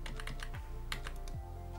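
Arrow keys on a computer keyboard tapped repeatedly while editing in DaVinci Resolve, making a run of soft, close clicks in quick succession over a steady low hum, with no talking.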